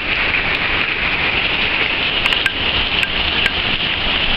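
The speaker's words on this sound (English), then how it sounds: "I have never seen rain like this in Vegas." Heavy rain pours steadily in Las Vegas, a dense, continuous hiss of drops on surfaces, loud and close, with a few sharper drip taps standing out near the end.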